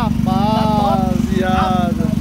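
A Ford Fiesta running a Twister motorcycle engine with a GRS exhaust idles with a steady, buzzy drone close by while several people talk loudly over it.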